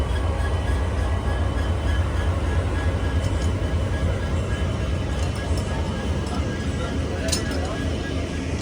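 A train hauled by a WDG4G diesel locomotive on the Rajkot-Coimbatore Express rolls along with a dense, steady rumble and faint metallic clinks throughout, close and continuous.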